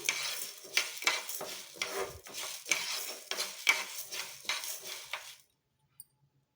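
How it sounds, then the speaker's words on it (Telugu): Repeated scraping and stirring while dry roasting in a pan on low flame, metal utensil strokes in an uneven rhythm, then the sound stops abruptly near the end. "స్లో ఫ్లేమ్లో బాగా వేయించుకోవాలి"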